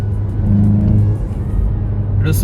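A Volkswagen Golf GTI Performance with 245 hp and six-speed manual gearbox accelerating, its turbocharged engine giving a loud, close rising hum that steadies, then a brief hissy burst at the end.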